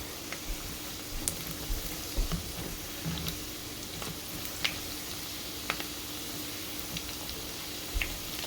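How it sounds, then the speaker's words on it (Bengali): Pitha, a sweet rice cake flavoured with cardamom, frying gently in a pan over medium-low heat: a soft, steady sizzle with scattered small pops and no talking. "একদম মিডিয়াম টু লো আঁচে পিঠাটা আপনারা ভাজবেন"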